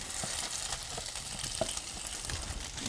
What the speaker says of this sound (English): Right back on the heat it goes. And in go our sausage.